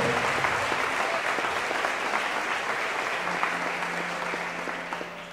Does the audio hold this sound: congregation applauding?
yes